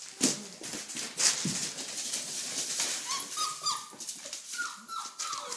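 Four-week-old red rust Doberman Pinscher puppies whimper and yip in high, thin, repeated cries, close by and fairly loud, with overlapping squeals and whines throughout.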